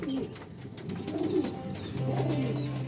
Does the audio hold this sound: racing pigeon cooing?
yes